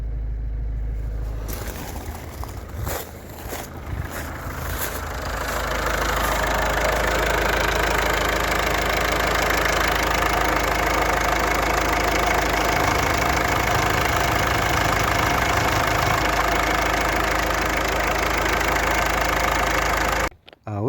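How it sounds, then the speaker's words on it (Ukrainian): A Ford Focus 1.6 TDCi diesel engine with 345,000 on the clock idles steadily for about twenty seconds, a low, continuous rumble that stays fairly loud and close and stops abruptly at the end. "Ось так двигун працює."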